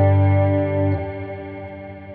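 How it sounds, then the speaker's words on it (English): A swelled guitar chord rings through a delay-meets-reverb pedal preset on a worship pedalboard, a sustained shimmering tone that fades and thins into a washy, echoing tail. "It does like this really, really cool delay meets reverb kind of a thing."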